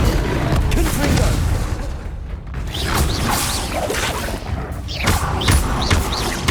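Confringo blasting curse impacts in the video game Hogwarts Legacy: a dense, loud run of crashing booms and thuds with sharp bursts throughout and mechanical rattles in between.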